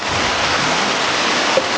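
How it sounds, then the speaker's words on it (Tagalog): Heavy rain pours down and grows stronger, a loud, dense, unbroken hiss of falling water with no pauses. "Lumakas lalo yung ulan."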